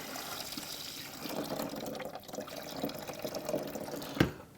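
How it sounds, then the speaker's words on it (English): Water being poured into the cooler of a Royal Catering RCBD-5L beer dispenser, a soft continuous splashing trickle that swells and wavers, ending with a sharp knock near the end. "Let me just pour some water inside."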